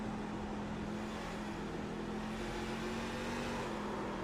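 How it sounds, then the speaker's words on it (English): A racing pickup truck's engine roars in a crash on a mile oval track at a racing league event, a loud continuous mechanical drone with a steady pitch and no distinct pop or bang, with no talking. "And you can hear the motor went right there, so he has blown a motor."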